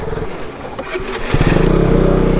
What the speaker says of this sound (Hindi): सो एज कैन सी बिल्कुल भी बाइक नहीं चढ़ रही है